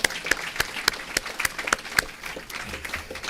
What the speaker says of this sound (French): je vous demande d'applaudir vous-même